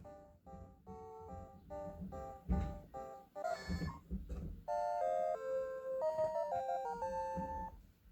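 Pokémon evolution jingle from Pokémon Yellow: chiptune beeps in rapid stepped patterns, a brief burst of effects, then a bright held fanfare melody.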